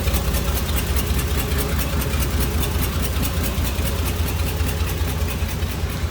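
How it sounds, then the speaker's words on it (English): A 1950 Oldsmobile Futuramic Series 76 sedan's inline-six engine idles smoothly and steadily nearby, with an even, rhythmic low rumble and no voices. "Smooth running engine"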